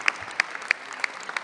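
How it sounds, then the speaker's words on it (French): A small audience at a town's New Year's wishes evening claps for a young musician, sparse and faint, with a few distinct hand claps spaced through a quiet room. "on peut l'applaudir"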